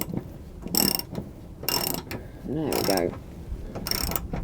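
Bolts are ratcheted in during a service on a Hyundai ix35, giving four loud close bursts of rapid ratchet clicking with pauses between and a brief spoken voice in the middle.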